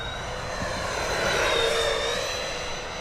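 A Freewing F-14 Tomcat RC model jet flies steadily on its maiden flight, its continuous high engine whine holding loud and even, swelling slightly as it passes nearer, with no talk over it.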